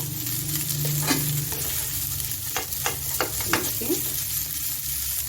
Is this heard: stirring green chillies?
yes